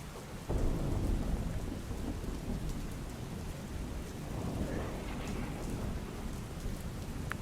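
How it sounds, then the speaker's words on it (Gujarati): A heavy downpour in Surendranagar, Gujarat, roars continuously with a low rumble of thunder underneath, starting with a sharp boom and staying dense and loud. "લખતર દસાડા ચોટીલામાં ધોધમાર વરસાદ થઈ રહ્યો છે"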